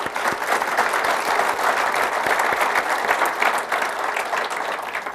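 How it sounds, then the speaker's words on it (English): An audience at a town State of the Town address claps steadily and fairly loudly throughout, dense applause with no clear voices. "So let's give them a round of applause."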